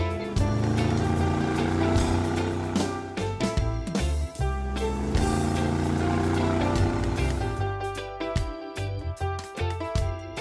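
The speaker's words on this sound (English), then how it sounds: "Twin-engine jet boat." A twin-engine jet boat's motors drone loudly and steadily, the throbbing engine tone rising and shifting before easing into choppier bursts near the end, with no voices.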